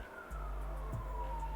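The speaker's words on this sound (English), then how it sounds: "my apologies for the sirens in the background" Distant sirens wail in the background, one slowly falling tone drifting faintly under a low steady hum with no talk.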